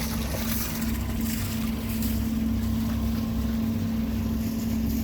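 A motorboat engine and its exhaust run at a steady idle, a constant low drone with a faint hiss of wind and water and no talking.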